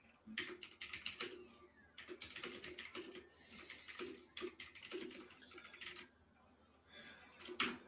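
Typing on a mechanical computer keyboard, quiet bursts of rapid clacking keystrokes with short pauses between them.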